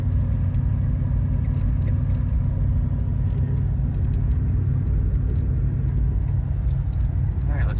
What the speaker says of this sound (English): what a nice car to drive around in